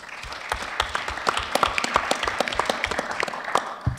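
An audience claps steadily at a public-safety community event in Baltimore, a dense patter of many hands lasting about four seconds, fairly near and without talk.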